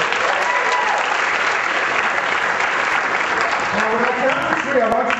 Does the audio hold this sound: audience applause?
yes